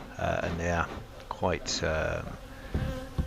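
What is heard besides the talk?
honey bees buzzing at an aggressive hive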